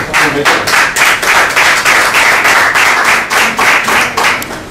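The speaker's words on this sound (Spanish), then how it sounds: "Al final aplaudimos con más fuerza." Audience at a discussion gathering in the Ateneo de Jerez applauding, a loud, close, continuous patter of many hands clapping for the whole span.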